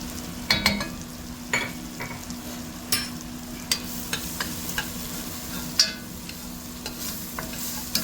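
Butter and flour cook into a roux for turkey tetrazzini soup, a steady soft sizzle in a pan broken by repeated scraping stirs of a utensil at irregular intervals, close by with no talking.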